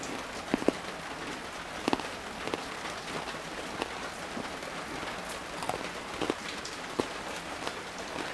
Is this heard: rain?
yes